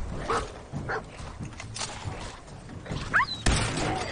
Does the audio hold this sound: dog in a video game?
yes